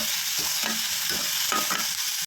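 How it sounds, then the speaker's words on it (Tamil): Onions, garlic and tomato sautéing in hot oil for a mutton curry, a steady close sizzle with repeated stirring scrapes of a spoon against the pan. "இப்போ நம்ம வந்து கட் பண்ணி வச்சுருக்கிற வெங்காயத்தையும் வெள்ளைப்பூடு இது எல்லாத்தையுமே நம்ம வந்து ஆட் பண்ணிக்கலாம். இதை நல்லா வதக்கிக்கலாம்."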